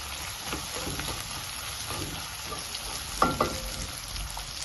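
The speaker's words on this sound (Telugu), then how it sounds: "కొంచెం ఫ్రై అవనిద్దాం ఇక." Chopped onions fry in a pan for a ridge gourd and tomato curry, giving a steady, soft crackling sizzle close by with a couple of brief stirring scrapes.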